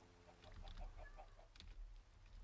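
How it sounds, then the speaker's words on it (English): Chickens cluck softly in a run of short, evenly spaced calls over a low background hum, faint and without speech. "That's many chickens."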